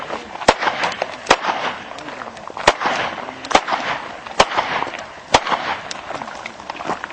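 Sharp gunshots crack at a shooting range in a spaced, steady series of single reports about a second apart, close and loud against a rustling outdoor background.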